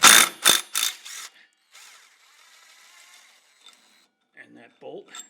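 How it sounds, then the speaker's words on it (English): A hand ratchet with a 5/8 socket loosens a pulley bolt on a John Deere 100 Series lawn tractor. Three or four quick bursts of close, sharp clicking are followed by quiet, faint metallic handling noises. "It's a 5/8 socket. We'll take down this pulley."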